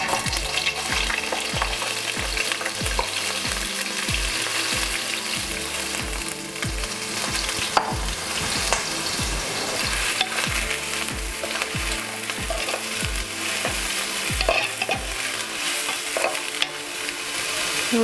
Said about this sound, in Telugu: ఉల్లిపాయలు మనం గోల్డెన్ బ్రౌన్ కలర్ వచ్చే వరకు ఫ్రై చేసుకోవాలి.